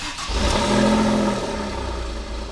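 An Alfa Romeo Giulia Quadrifoglio engine with new downpipes, exhaust and tune turns over and catches, then revs loudly and settles into a rough, throaty idle close by.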